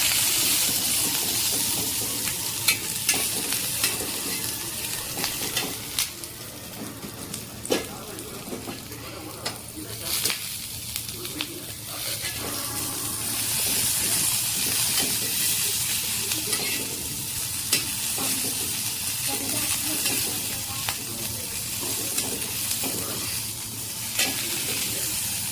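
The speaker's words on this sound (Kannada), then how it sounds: "ನೋಡ್ರಿ, ಮೆಣಸಿನ್ಕಾಯಿನ ಈ ಥರ ಹುರ್ಕೊಂಡಿನಿ" Green chillies fry in hot oil for palak sambar, a steady close sizzle broken by repeated scraping and stirring strokes of a spatula across the pan, with no talking.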